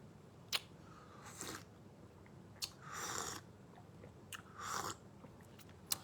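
Faint, close chewing and crunching on black seed (habbatus sauda) capsules, in a few short, separated bites and chews against a quiet room background.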